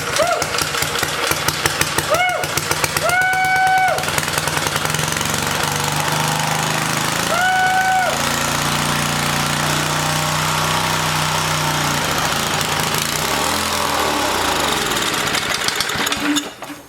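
A small air-vane-governed engine on an old machine, tipped forward with the choke pulled out, fires up and races wildly at high revs, loud and continuous, with brief rising pitch surges early on.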